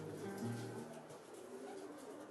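Racing pigeons coo softly in low, rolling murmurs early on, quiet against faint background noise.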